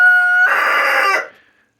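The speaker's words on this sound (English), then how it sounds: "Dude, this rooster's all confused." A rooster crows once, loud and close, a single drawn-out call that ends abruptly into silence.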